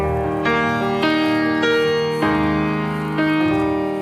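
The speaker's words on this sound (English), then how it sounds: "White Grand sounds like this." Nord White Grand piano patch, bright and full, playing a series of sustained chords struck roughly every half second to second, each attack ringing on evenly, close and loud with no voices.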